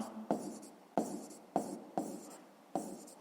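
Short scratchy strokes of a math solution being written on a board come in about five separate bursts at an uneven pace, close and quiet.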